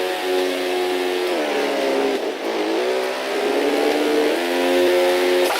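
Motorbike engine revving in the PC video game Trials Fusion, a steady, loud synthetic engine whine that rises and falls in pitch continuously, with one brief dip, heard alone without talk.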